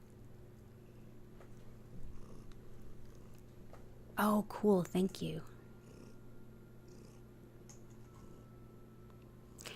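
A cat purrs softly and steadily in a quiet indoor room, with a brief burst of louder close sound midway and a person talking briefly over it.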